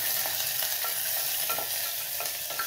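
A ladle scraping and stirring food in a small nonstick pan, with repeated quick strokes over a steady frying sizzle, close and fairly loud, with no voices.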